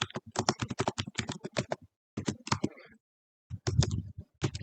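Rapid bursts of computer keyboard typing rattle close and crisp as an AI prompt is entered, with short pauses between runs of keystrokes.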